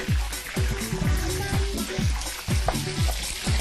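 Close, steady sizzling and spattering of a meat roll frying in a hot pan, with repeated low scraping strokes and crackling pops throughout.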